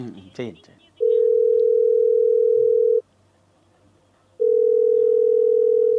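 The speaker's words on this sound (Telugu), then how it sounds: "రింగ్ అవుతోంది" Telephone ringback tone during an outgoing call, two long, loud, steady electronic tones separated by a silent gap, after a brief snatch of speech at the start.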